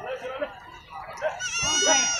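Goats bleat at a crowded Eid livestock market in Tando Adam, with a drawn-out bleat near the end rising over people talking nearby.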